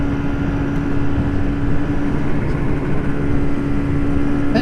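Vintage motorcycles, a Kawasaki A7ss and an Ariel 350, ride along with a loud, continuous engine drone and steady hum, the sound buffeted as if recorded on the move.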